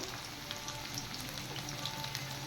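Onion fries in a pan with a continuous, even crackling sizzle, fairly faint and steady throughout, with small pops scattered across it and no voices.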